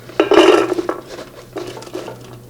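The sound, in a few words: almonds and rice put into a soy milk maker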